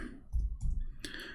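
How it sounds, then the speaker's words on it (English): A computer keyboard is tapped up close in a few quick clicks, with a sharper keystroke near the end and no voice. "So if we type the word ahad here, and I will type it in front of you, Abdul."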